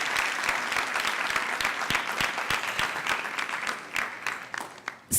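Audience applause for a film cast at a panel event, dense steady clapping throughout that thins toward the end, fairly close and alone without talk.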